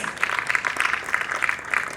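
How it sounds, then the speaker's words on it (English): Audience applause at a corporate event: a steady patter of many hands clapping together, moderately loud and sustained throughout with no voice over it. "Let's give her a resounding applause."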